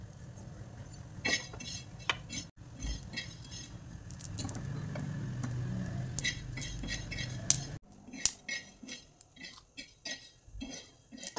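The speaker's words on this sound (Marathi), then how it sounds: "आपण हे सगळं सुक्कच भाजून घेणार आहे, तेलाचा वापर न करता." Peanuts, chilies, coriander seeds, garlic and ginger dry-roast in a pan without oil. A spatula clinks and scrapes against the metal in irregular bursts, with a soft rustle of the ingredients shifting between the strokes.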